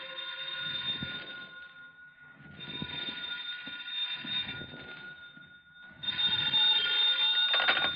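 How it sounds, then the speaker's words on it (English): An old telephone bell ringing in a 1952 radio drama, three long rings separated by short pauses, loud and close with no one speaking. "Then the phone rang."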